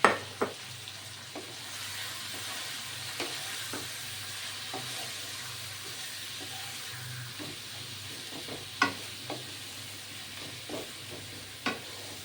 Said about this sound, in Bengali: এই রসুন পেঁয়াজ দিয়ে মাংসটা সুন্দর করে ভাজা হবে না ঢেকে